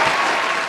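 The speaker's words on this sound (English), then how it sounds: "Round of applause." Short, dense round of applause on a podcast, a steady clatter of clapping hands heard alone.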